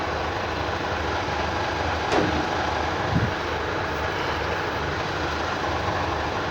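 Hino and FAW trailer truck engines idle while warming up, giving a steady rumbling drone broken by a couple of brief knocks or clanks.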